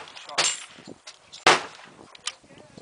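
A Colt 1911 .45 pistol made in 1912 fires with sharp, loud cracks, about three shots spaced roughly a second apart, each with a brief ringing decay and faint background voices between them.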